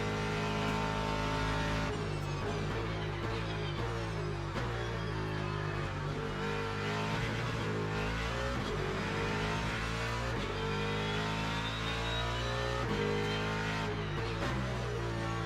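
Race car engine in the Le Mans Ultimate sim racing game, a loud steady drone with shifting revs and harsh engine braking on deceleration, continuous throughout with no talk.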